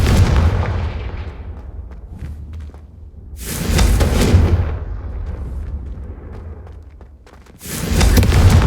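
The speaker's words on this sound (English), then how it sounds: "I think you'll find that a Confringo cast travels a bit farther than that of a spell like Incendio." In the video game Hogwarts Legacy, Confringo fire spells blast candelabras with heavy booming explosions: three loud blasts, each with a rumbling decay, arriving at intervals of several seconds.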